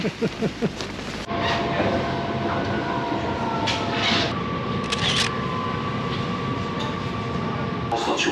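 A metro train in Haarlem, Netherlands: a few quick clicks, then a steady loud rumble of the moving train with faint tonal whines and brief higher bursts.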